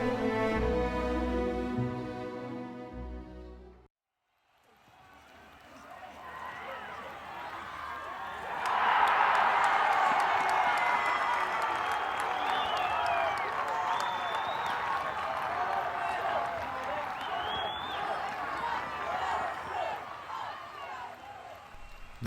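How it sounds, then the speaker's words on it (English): A large crowd roars and cheers loudly with scattered whistles, sustained after a brief pause following an earlier tonal passage. "The crowd exploded raucously, bellowing their approval as Bushell Strike hammered into the oppositi"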